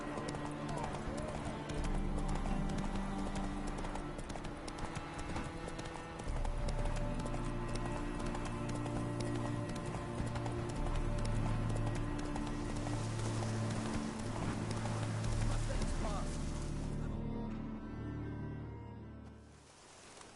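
Roach, the horse in The Witcher 3, runs with a steady, rhythmic clip-clop of hooves under game music and ambience, and a voice is heard along with it.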